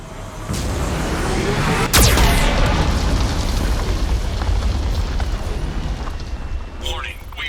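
A Geth cannon fires in Mass Effect 2, one sharp loud blast cutting through a continuous roaring rumble of explosions and battle noise, while a synthetic warning voice speaks over it.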